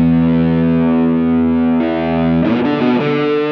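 Electric guitar, a Telecaster, played through a Spaceman Effects Sputnik III germanium fuzz pedal: a loud, sustained fuzzy chord rings out, then a second strummed chord with a gritty attack near the end, no talking.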